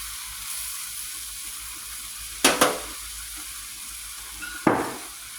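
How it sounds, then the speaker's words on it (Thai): Mushrooms stir-frying in a pan, with a steady low sizzle throughout, broken by a few sharp utensil scrapes and clinks, close up, with no talk. "เราก็ผัดเห็ดให้สุกก่อนนะคะ"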